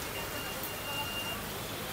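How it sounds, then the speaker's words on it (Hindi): Heavy rain pours down outdoors during a street festival in Nagpur, a steady broadband hiss filling the short stretch without letting up. "बारिश जो है बहुत ही जोरों शोरों से शुरू हो चुकी है, देख सकते हो"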